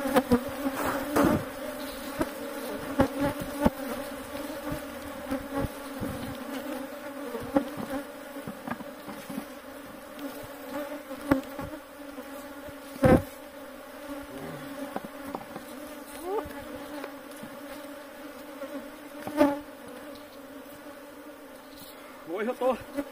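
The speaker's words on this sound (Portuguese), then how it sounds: "A abelha, do jeito que ela tá cheia aqui, ó." Honey bees swarm around hives during a honey harvest, a dense, steady buzzing close to the microphone with sharp bursts of louder buzz as individual bees fly past.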